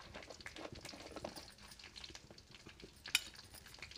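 Fenugreek and cumin seeds frying in hot oil, a soft steady crackle with light stirring scrapes and one sharp clink of a utensil near the end.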